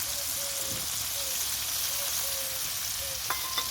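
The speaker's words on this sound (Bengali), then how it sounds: "এবার একটু একটু করে জল দিয়ে দিচ্ছি।" Fish curry sizzling steadily in a pan as water is added a little at a time, a continuous close frying hiss with faint clinks near the end.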